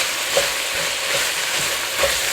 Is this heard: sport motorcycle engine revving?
no